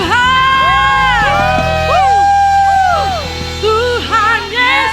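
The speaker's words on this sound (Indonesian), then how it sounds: "Berikan tepuk tangan yang meriah bagi Tuhan." A church congregation at a Sunday worship service cheers and shouts loudly, with high whoops and crowd noise layered over sustained organ-like music for the whole stretch.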